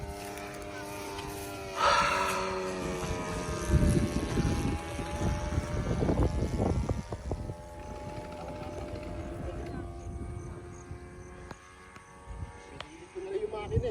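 A small RC model airplane engine runs steadily with a high, buzzing whine, at an outdoor funfly flying field, wind rumbling in the microphone, nearby voices talking over it.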